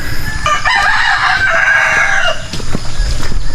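A native chicken rooster crows once nearby, a drawn-out cock-a-doodle-doo over a low farmyard background, followed by a few faint clucks.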